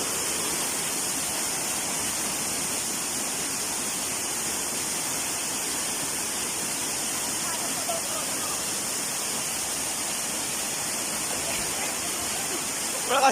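Waterfall at Tugunan in Bislig City, a steady, dense broadband roar of falling water heard close and unchanging throughout, with no other sounds standing out.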